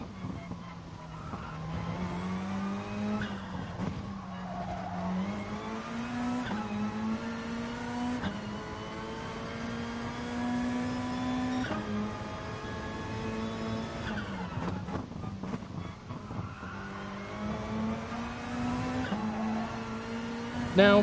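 A GT3 race car in a racing video game drives through a left-hand corner at Alsace, its engine note droning steadily with rising and falling pitch through gear changes, loud and continuous with no voices.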